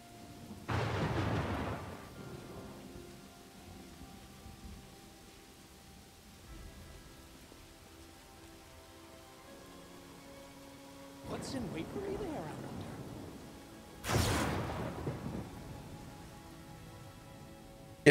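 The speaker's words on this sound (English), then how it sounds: "Just a light blood rain now." Rain falls as a faint, steady hiss in the fantasy game Pathfinder: Wrath of the Righteous, broken by three loud, rumbling thunder crashes, one near the start and two near the end, with a player talking over it.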